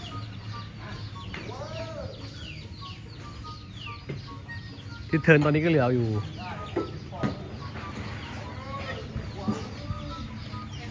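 Chickens cluck and squawk nearby as a child chases them, one loud burst in the middle, while people talk over them throughout.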